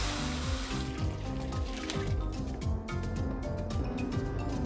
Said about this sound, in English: Add hot water to this.